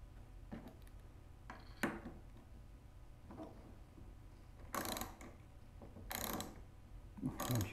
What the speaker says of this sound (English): it can turn with the ratchet, a socket wrench